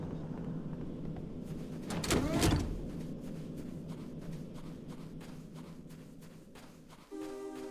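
A door slides open in Halo CE, a mechanical whoosh rising to a loud swell over a low steady hum, followed by faint rhythmic ticking and an abrupt tonal shift near the end.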